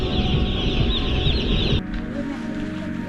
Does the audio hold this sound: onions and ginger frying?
no